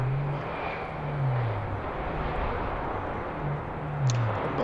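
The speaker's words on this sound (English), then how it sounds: "That's British Airways. It is coming from San Francisco. It's an Airbus 380, so it's the big one," A British Airways Airbus A380 arriving at Heathrow from San Francisco gives a steady, broad jet roar at moderate distance, with a low engine drone rising and falling throughout and no talking.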